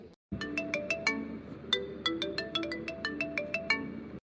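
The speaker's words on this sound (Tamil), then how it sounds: "யார் நமக்கு இப்போ ஃபோன் அடிக்கிறது" A mobile phone rings with an incoming call, playing a bright electronic ringtone melody of repeated chiming notes in a steady rhythm for about four seconds, then cutting off.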